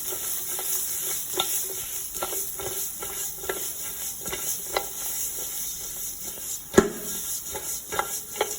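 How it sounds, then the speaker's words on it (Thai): Fried fish is stir-fried in a pan with pepper, chili and garlic, a steady sizzle broken by repeated scraping and clacking of a spatula, with one louder knock near the end and no voices. "เห็นต้องุงเสร็จแล้วเราก็ คั่วให้เข้ากันครับ"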